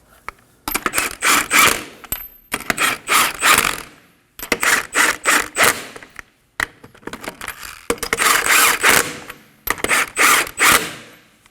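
Quick repeated ratchet clicking from a hand ratchet snugging the camber kit bolts on a 2011-2016 Kia Optima front suspension. It comes close up in several bursts of rapid clicks with short pauses between them.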